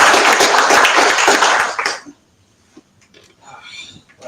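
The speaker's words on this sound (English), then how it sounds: "please give me a welcoming applause here for Ryan" An audience applauds to welcome a speaker at a public safety gathering. A strong burst of clapping lasts about two seconds, then cuts off into near quiet with faint shuffling and a voice.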